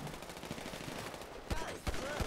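Police gunfire in GTA 5, with bursts of shots crackling over game background noise and two louder, closer bangs near the end.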